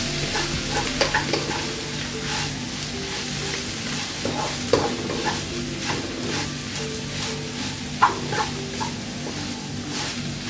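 Drumstick leaf thoran stirred in a frying pan, continuous sizzling with repeated scraping strokes of a spoon against the pan, close and steady throughout without talk.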